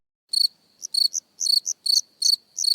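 Crickets chirp in short repeated high-pitched pulsed bursts, close and clear against near silence, with no voices.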